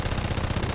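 Rapid burst of P-26B-35 aircraft machine guns firing in War Thunder, a fast continuous rattle of closely spaced shots, loud and close, with no talk.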